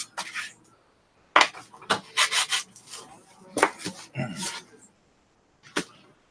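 Sandpaper rubbed over a 3D-printed part, a series of close, rasping scrubbing strokes in uneven bursts separated by short pauses, with a long silent gap after the first burst.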